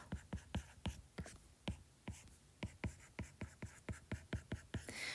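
A pen writes out a math equation by hand for a middle-school linear equation problem, making quick, close scratching strokes in an uneven rhythm.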